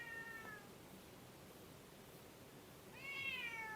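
A cat on a balcony meows faintly in the distance, one short call at the start and a second, rising-and-falling meow near the end, over steady background noise.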